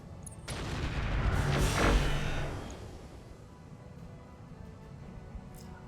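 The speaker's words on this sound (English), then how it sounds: "Why did I hear something explode?" A distant explosion in a sci-fi video game, a rumbling boom with crackling bursts that swells over the first two seconds and then trails off into a low lingering rumble.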